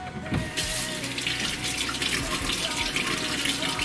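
Running tap water splashes steadily as fruits and vegetables are washed under a faucet at a kitchen sink, a continuous close rush that starts after a brief moment and holds evenly throughout.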